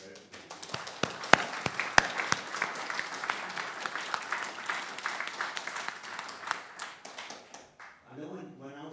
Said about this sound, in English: Andrew deserves a great round of applause for everything